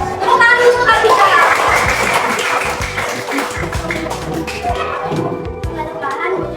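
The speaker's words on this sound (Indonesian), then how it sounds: "Tepuk tangan dulu Katika." Schoolchildren in a classroom clap their hands together, a dense patter of claps over lively kid chatter, loud and close throughout.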